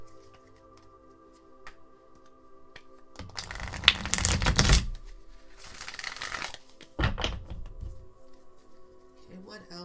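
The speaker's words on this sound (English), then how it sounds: "Now let me shuffle these two." Tarot cards are shuffled in bursts of crisp riffling and slapping, two main rounds up close, with a quiet voice talking softly around them.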